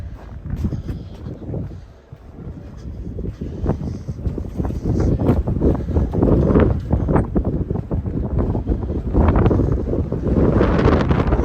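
Strong wind buffets the microphone while someone walks outdoors through downtown Regina in December, a loud, continuous low roar with gusts that swell and ease and no speech.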